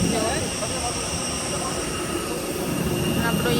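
Jet airplane on the tarmac at Delhi airport, a steady loud engine whine and rumble close by and continuous throughout, with voices talking over it.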